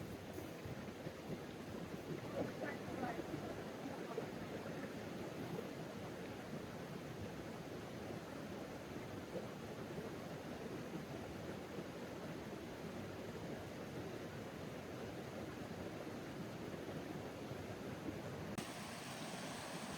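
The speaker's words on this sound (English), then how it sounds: "now we're just gonna sit here and enjoy the water" Mountain stream water in the Smoky Mountains rushes in a steady, soft broadband wash, unbroken and fairly faint, heard from nearby without other sounds.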